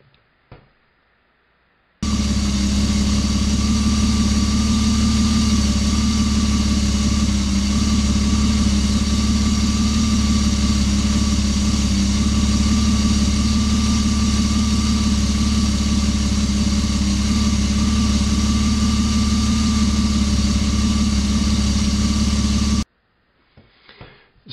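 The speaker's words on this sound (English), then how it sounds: "that beautiful piece of engineering that you just heard was my BMW. It's a 525i Touring, and it has an inline six engine" A BMW 525i Touring with an inline six-cylinder spark-ignition engine idles steadily and loudly for about twenty seconds, a smooth, even mechanical hum with no talking.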